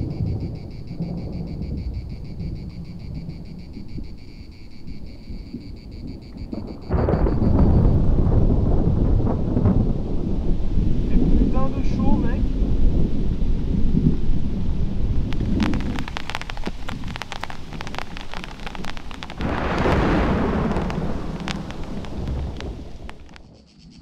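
Thunderstorm with rain at a dam lake campsite: steady rain patter and wind buffeting the microphone, swelling into heavy downpour with rumbling thunder roughly midway and again later.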